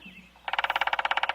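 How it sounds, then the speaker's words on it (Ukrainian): A woodpecker call plays in a children's bird-voice guessing game: a rapid, evenly spaced run of sharp pulses, about a second long, loud and close after a quiet start. "Так, це дятел."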